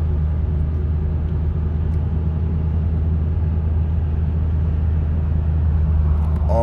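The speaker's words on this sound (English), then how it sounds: "See, I'm in standstill traffic." Cars idle in standstill traffic heard from inside a 2005 Mustang GT: a close, steady low engine rumble and road hum that continues without change.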